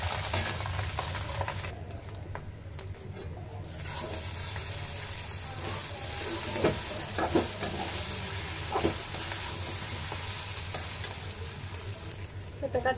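Noodles stir-frying in a pan for an afternoon snack, with a steady sizzle under repeated scraping and stirring strokes, close and moderately loud, no talking.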